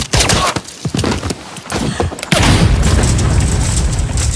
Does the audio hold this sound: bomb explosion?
yes